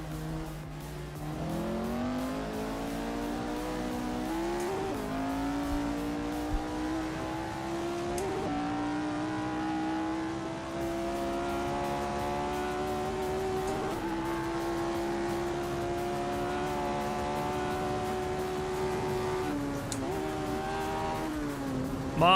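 Race cars in the sim racing game Assetto Corsa drive continuously, engines droning and revving through gear changes with steady rising pitch sweeps, loud and constant with a brief dip in the middle.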